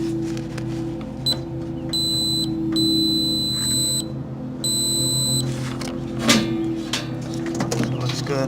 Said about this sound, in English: I'm going to check continuity on the auxiliary limit switch.